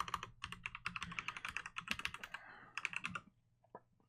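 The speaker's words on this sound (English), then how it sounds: "Let me just type it in here." Rapid, close typing on a computer keyboard, a dense run of crisp key clicks that thins out and ends with a few last isolated taps.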